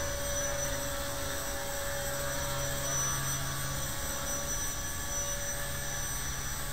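A small HK250 RC helicopter in flight, its electric motor and rotor producing a steady, continuous high whine with a faint underlying hum, unbroken and fairly distant.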